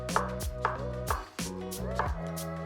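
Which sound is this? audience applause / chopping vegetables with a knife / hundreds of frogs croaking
chopping vegetables with a knife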